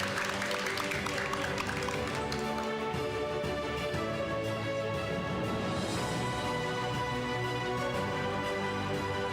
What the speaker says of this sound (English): Let us give a round of applause to Rajdeep Dasgupta.